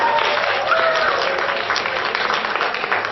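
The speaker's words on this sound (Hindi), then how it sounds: "जोरदार तालियां विनर के लिए, थोड़ा जोर से" A crowd applauds the announced winner of a contest, a dense, steady wash of clapping that stays loud and even for a few seconds.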